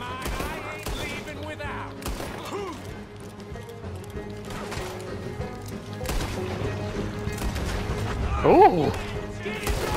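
Gunfire from the video game Red Dead Redemption II, with sharp repeated shots and a busy fusillade in a dense mix alongside hoofbeats, while a voice briefly exclaims over the action.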